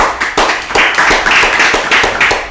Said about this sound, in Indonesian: Oke, tepuk tangan untuk Kay.